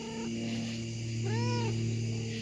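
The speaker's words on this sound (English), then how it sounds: "You want to say hello, Mr. Kitty Cat? Yeah? You saying hello?" A cat meows once, a drawn-out rising and falling call over a steady low hum in the room.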